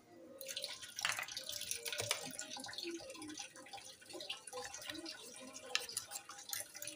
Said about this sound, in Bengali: এবার মশলাটা জল দিয়ে একটু গুলে নিই